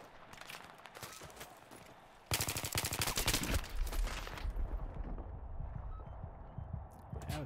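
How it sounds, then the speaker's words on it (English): Rapid bursts of automatic gunfire in Battlefield 3, a quieter stretch of shots giving way to a louder, dense rattle of overlapping fire that continues to the end. "That was some accurate fire."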